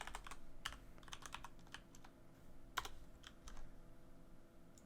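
A password is tapped out on a computer keyboard as a scatter of faint, irregular key clicks, one slightly sharper, over quiet room hum.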